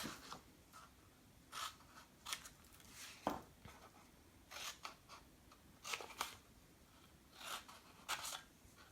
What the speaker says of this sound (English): Snip this piece off.